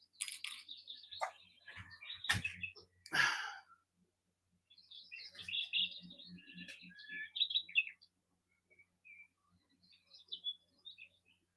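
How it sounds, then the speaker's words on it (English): Loud birds chirp in rapid bursts close by, with sharp high trills and calls early on, then a softer, busier stretch of twittering and scattered faint chirps toward the end. "That's some loud birds."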